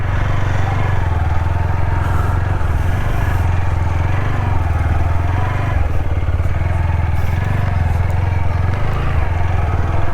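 A motorcycle ridden through heavy rain on a slippery muddy road gives a steady, close, loud engine drone with low rumble and clattering, the throttle held fairly even throughout.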